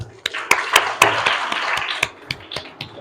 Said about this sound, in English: Please join us with one round of applause.